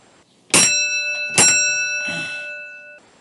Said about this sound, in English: We give 2 beats on the bell to the blue anchor signalman